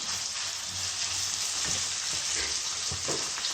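Meat fries in a pan with a continuous soft sizzle and a few muffled stirring knocks, heard up close at a fairly low level with no talking.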